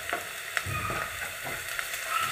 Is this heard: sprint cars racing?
no